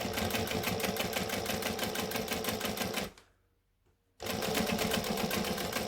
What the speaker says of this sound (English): I'm not going too fast because I'm sewing through quite a few layers here.